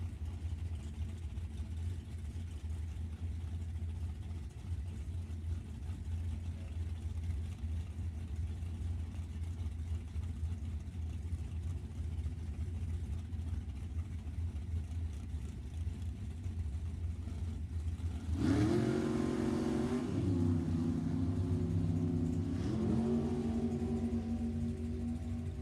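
A pair of 565 Chevrolet drag race cars at a drag strip, idling with a steady low rumble for a long stretch, then launching together with a sudden louder rising roar near the end.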